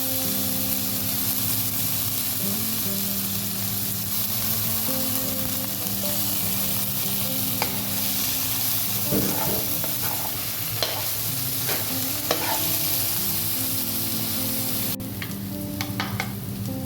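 Crushed ginger and garlic frying in hot oil for mushroom biryani, a continuous dense sizzle with scattered scraping and tapping from a spoon against the pan.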